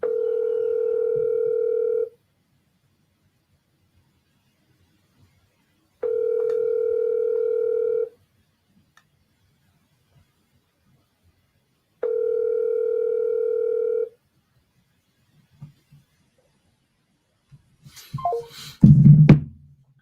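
A cold-call phone line gives three steady ringback tones, each about two seconds long with even gaps, followed by a brief clatter of handset noise at the end.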